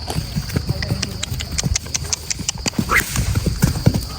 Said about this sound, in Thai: ซ้อมม้าออกกำลังกายยืดเส้นยืดสายม้ากันนะครับ